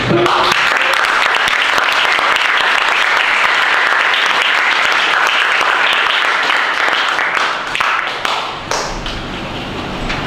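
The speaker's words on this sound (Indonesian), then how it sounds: "Mari kita berikan tepuk tangan sekali lagi" Loud, dense audience applause fills a hall at the close of an academic research presentation, steady for about eight seconds before thinning and tapering off.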